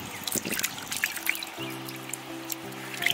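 Water trickles and splashes as a 1 kg Pyasi fish is rinsed by hand in a kitchen, with soft irregular dribbles near the mic while a steady tone hums underneath.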